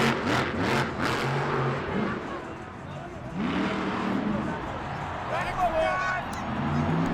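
A monster truck engine roars and revs at a Monster Jam show in San Francisco, loud and rising as the truck flies off a jump, with a commentator's voice and crowd noise over it.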